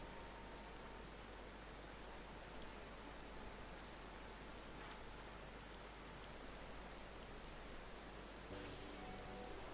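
Steady rain falls in the video game Final Fantasy XIV, a dense, even hiss of drops on surfaces that holds for about ten seconds, soft but constant, with no voices over it.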